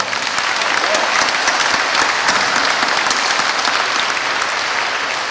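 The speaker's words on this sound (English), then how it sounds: "That deserves a round of applause right there." A loud, dense round of audience applause at a school's 100th anniversary celebration for a couple's 52nd wedding anniversary, sustained and even throughout.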